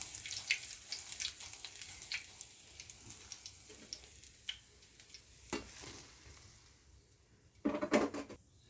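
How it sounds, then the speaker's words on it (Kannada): Dry red chillies crackle and sizzle in hot oil with garlic for an avalakki tempering, a faint steady frying hiss broken by scattered stirring clatter and a louder burst near the end. "ಇವಾಗ ಗರಿಯಾಗಿ ಕರ್ಕೊಂಬಿಡೋಣ ನೀಟಾಗಿ"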